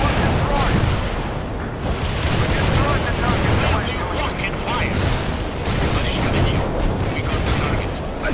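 A barrage of artillery shells crashes down in the World in Conflict strategy game, producing dense, overlapping heavy explosions and rumbling booms, loud and continuous, with a radio voice talking beneath the blasts.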